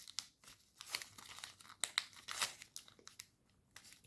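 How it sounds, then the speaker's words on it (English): Paper being folded into an origami fighter jet, with repeated crinkles and sharp creasing snaps close to the microphone, a handful of louder crisp folds standing out among softer rustling. "Fold up the blades. And then fold out the blade fin."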